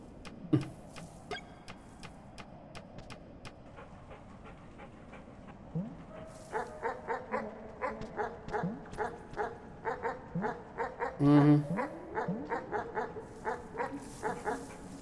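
Dogs in a video game published by Dunkey pant, whimper and yip, starting with sparse sounds, then a quick run of rhythmic yips and barks, with a brief louder burst near the end.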